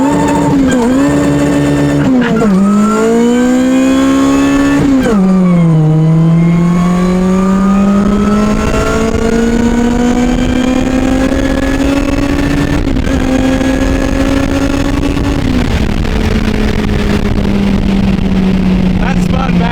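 A supercharged K-swap Honda Civic accelerating hard, loud and close, with a high whine from the supercharger that climbs in pitch across each gear, dropping at the shifts and rising again, over a strong engine roar.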